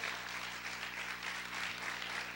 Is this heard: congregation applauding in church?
yes